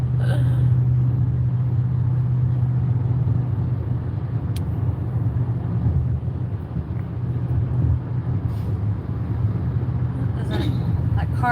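Highway car traffic produces a continuous low rumble with wind noise, steady and fairly loud for the whole stretch, with no distinct pass-bys standing out.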